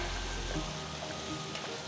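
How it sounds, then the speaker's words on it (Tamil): Onions, crushed garlic and curry leaves fry in a pan for a tomato dish, giving a steady close sizzle throughout with a faint stir or clink near the end. "பாருங்க, வெங்காயம் நல்ல கோல்டன் பிரவுன் கலர்ல வறுபட்டுடுச்சு"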